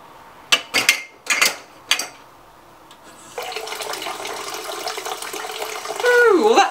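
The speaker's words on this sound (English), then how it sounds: "Ooh, all that soapy water. Are you going to do the dishes now, Geraldine, with that foam?" Water from a tap pours steadily into a sink for washing dishes after a few sharp knocks and clatters, the splashing growing louder at the end, with a voice speaking over it.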